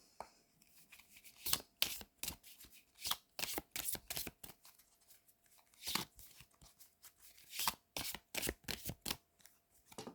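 Oracle cards are shuffled by hand during a tarot-style card reading, giving a quick series of papery riffles and slaps in irregular bursts, close and fairly loud with no talking.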